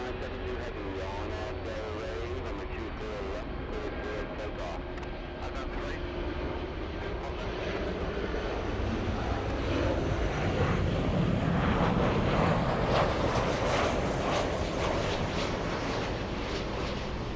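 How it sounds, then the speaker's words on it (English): A big airliner powers up for takeoff at LAX, its engine roar swelling from a steady background hum into a loud, broad rushing blast in the second half, with voices audible early on. "I'm hearing a big plane. Power up."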